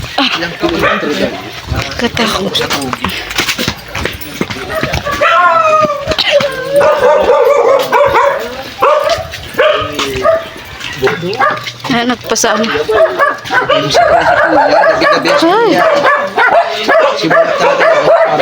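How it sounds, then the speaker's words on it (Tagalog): Many dogs bark, yip and howl in an outdoor neighborhood, loud and overlapping in irregular bursts throughout, with people talking over them close by. "Ang dami pong aso dito."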